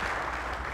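Audience applause at a military change of command and retirement ceremony, a brief steady burst of clapping filling the hall with no voices over it.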